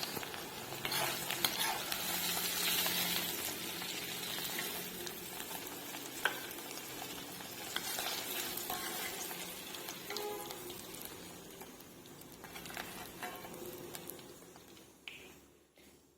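Puris for a Bengali-Assamese matar paneer meal frying in hot oil in a kadai, a dense continuous sizzle with bubbling and occasional stirring taps, fading toward the end.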